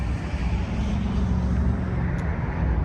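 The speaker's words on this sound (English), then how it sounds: "before I start the car to listen to the sound from the engine" A 2023 Mercedes-AMG SL 63 with its engine running, a steady, full low rumble heard close and alone for a few seconds.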